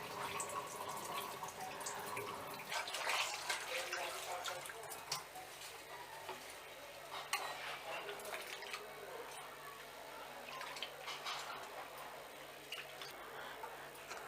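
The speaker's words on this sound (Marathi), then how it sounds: "चुन्याच्या पाण्यामध्ये आपण ह्या आतड्या थोडासा 1-2 वेळा हासडून घेऊयात." Water splashing and dripping as goat intestines are rinsed by hand in lime water in a kitchen vessel, a steady moderate wet sloshing with small drips throughout.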